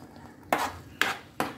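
Two spoonfuls of Tata garam masala being stirred into a pan of red chicken tikka masala mixture, three distinct scraping clinks of a metal spoon against the pan over a quiet background.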